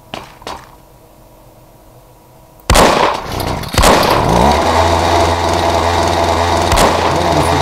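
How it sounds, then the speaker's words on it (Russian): A chainsaw in a horror video game about zombies roars in abruptly after a quiet stretch of faint clicks, a loud, sustained buzzing engine with sharp bursts and gunshot-like cracks over it. "там бензопила"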